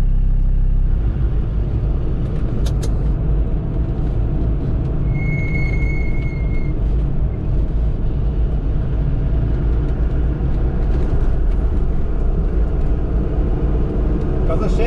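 A Land Rover Defender 110 overlanding in Norway's Romsdal region moves off gravel onto tarmac, with a loud, steady engine drone and broad road rumble inside the cab throughout, plus a brief faint tone midway.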